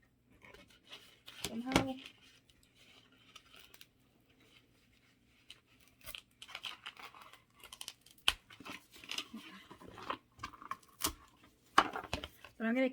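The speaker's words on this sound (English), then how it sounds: "just cut the ribbon off somehow" Scissors snipping ribbon off a gift box, with scattered crisp cuts, crinkling and rustling close by, while a person talks intermittently.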